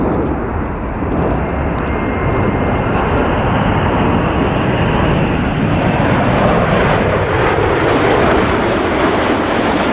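Red Arrows jets performing a flying display at the 2022 Royal International Air Tattoo, a loud, continuous engine roar that swells and shifts steadily as the aircraft pass, with no speech over it.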